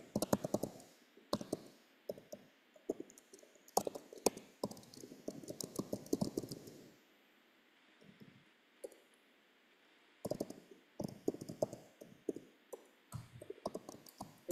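Typing on a computer keyboard, bursts of quick faint clicks and taps in irregular clusters with pauses between, close but quiet, no voices over it.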